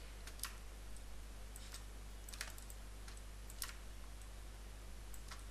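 Computer keyboard keys pressed as shortcuts while working in Photoshop, sounding as a handful of sharp, sparse clicks in irregular short bursts over a steady low hum, fairly quiet and close.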